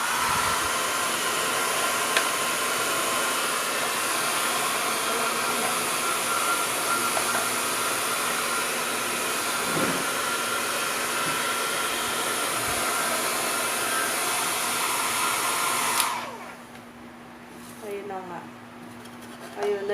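Hair dryer blowing hard through a plastic bottle in a DIY Dyson Airwrap hack, a loud steady whooshing roar that cuts off near the end, followed by someone talking.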